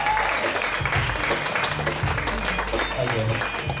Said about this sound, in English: Applause once again for Joe